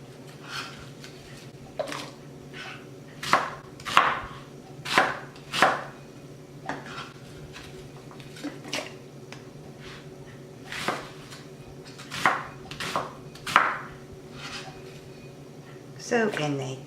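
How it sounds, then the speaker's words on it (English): A knife chops two white onions on a cutting board for a crock-pot pork roast, giving a dozen or so crisp, close thuds in uneven bursts against a quiet background. "I have 2 white onions. I'll just chop them up and place them in as well."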